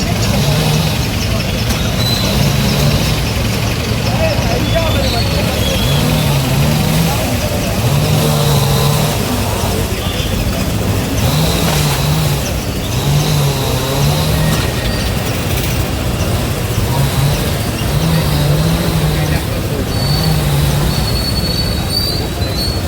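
Heavy traffic crawls along a narrow road near the Shri Ram temple in Bhatulem, a dense, constant engine rumble with repeated tonal wails riding on top and voices mixed in throughout.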